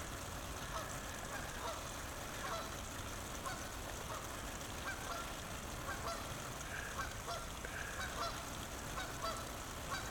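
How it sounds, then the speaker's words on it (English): Canada geese at Stoney Creek honk repeatedly at a moderate distance, their calls overlapping over a continuous outdoor background hum. "Is he gonna grab one of these geese?"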